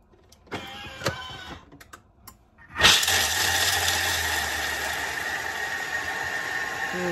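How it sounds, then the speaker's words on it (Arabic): Food processor grinding almonds, starting with a couple of short, sharp pulses and then a loud, steady whirring motor with a rattling blade that runs on without pause and without any talking. "النصيحه اللي نعطيكم هو هاد اللوز خاصنا نطحنوه بمراحل"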